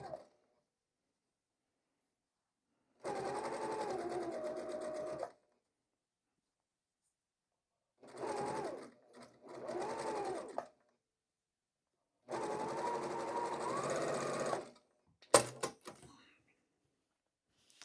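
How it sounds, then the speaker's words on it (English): A domestic sewing machine stitches a quilt seam along a top edge in three steady bursts of rapid, even stitching separated by pauses, followed by a few sharp clicks; no one talks. "this is a great time for needle down if you have that feature on your machine"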